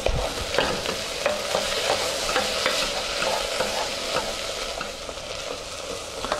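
Onions fry in a pan for French onion soup made with white wine, sizzling steadily while a utensil stirs and scrapes them in repeated sharp clicks, with no voices.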